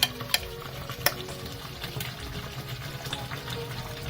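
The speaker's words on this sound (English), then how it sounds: "So now I'm going to put the curry." Chicken sizzles steadily in a hot pan as curry powder goes in, with a few sharp spoon scrapes and stirring clinks over the constant close frying hiss.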